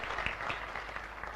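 An audience gives a short burst of loud, dense applause at a religious discourse, the clapping steady and continuous from start to end with no voices over it.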